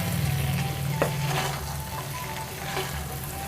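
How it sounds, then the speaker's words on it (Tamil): Cooked basmati rice is stirred with masala in a hot pan on the stove, giving a soft continuous sizzle with scraping stirs, fairly close and moderately quiet, with no talking. "இப்போ இந்த மசாலாவோட நல்லா மிக்ஸ் பண்ணுங்கள்."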